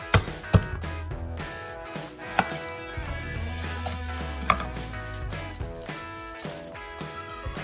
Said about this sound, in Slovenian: Česen drobno narežemo.